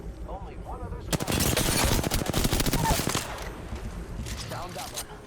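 Loud, rapid automatic gunfire in Apex Legends, a dense burst of shots lasting about two seconds before tailing off into scattered echoing reports, with a voice speaking faintly before the shooting.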